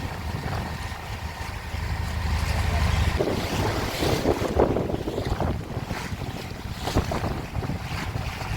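A boat crosses Vembanad lake in Kerala, its engine a low continuous rumble under heavy wind buffeting and the wash of water, loud and close throughout with no voices.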